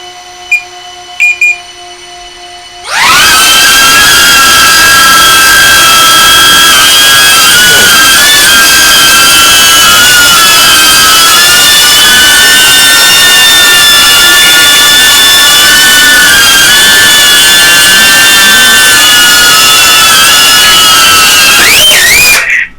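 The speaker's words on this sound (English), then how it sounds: "I'm going to start up the drone." A quadcopter drone's motors spin up abruptly after a few quiet beeps and hold a loud, steady whine with shifting harmonic tones as it lifts off and hovers, then cut out at the end.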